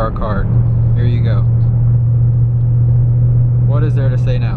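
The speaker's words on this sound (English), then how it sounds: "We are driving on the 405 freeway in the Agera RS." A steady engine hum and road rumble from inside a Koenigsegg Agera RS sports car moving on the 405 freeway, with a low droning tone and occasional voices.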